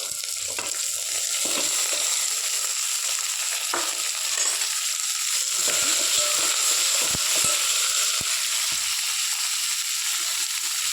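Onions, curry leaves, coriander and tomato sauté in a hot pan for potato masala: a steady, close hiss of frying throughout, broken by scattered clicks and scrapes of stirring.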